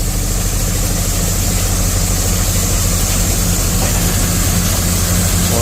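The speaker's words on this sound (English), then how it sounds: "I got my swing auger out." A swing grain auger running during a corn harvest, a loud steady mechanical drone with a constant low rumble and churning hiss throughout, no voices.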